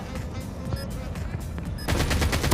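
Rapid gunfire from a Power Rangers video game, a dense continuous burst throughout that grows louder and harsher near the end, with some faint voices mixed in.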